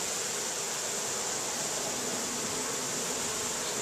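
A steady, dense hum of Tasmanian honey bees at the hive, a constant close buzz blending into a broad hiss without any change or talk.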